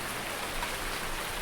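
Steady, dense rain hisses evenly throughout a farming survival video game, with no pauses or thunder.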